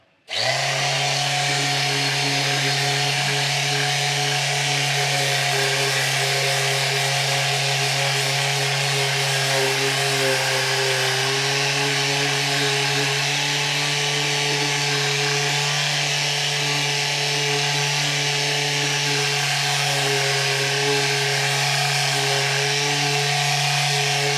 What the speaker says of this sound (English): basically just a matter then of just sanding over, sanding